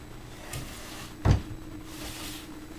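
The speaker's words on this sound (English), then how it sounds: "Doors open." Plastic doors of an Elves and Angels Fairytale Castle Deluxe toy swinging open indoors, with one sharp click and a couple of softer clatters in a quiet room.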